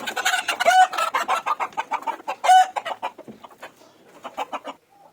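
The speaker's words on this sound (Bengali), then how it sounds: "মুরগিগুলো যেহেতু দেশি অনেক শক্তিশালী, ওদেরকে ধরতে ভালোই কষ্ট করতে হইতেছে।" Native (deshi) chickens cluck and squawk in quick, agitated bursts while being caught at a farm, loud and close, with a couple of sharper cries standing out and the calls thinning toward the end.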